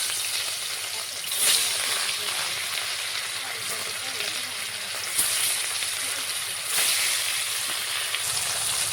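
Rohu fish pieces sizzle in hot oil in a kadai, giving a steady close frying hiss with a few brief louder surges as pieces settle or are moved.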